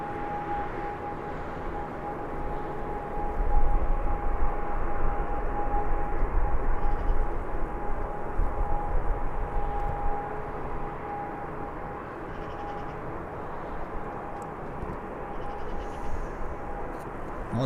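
Aer Lingus aircraft at Birmingham Airport, a steady broad engine roar from a distance that swells slightly and then holds, with a faint constant tone running through it.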